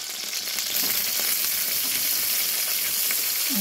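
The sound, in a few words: frying khichdi ingredients sizzling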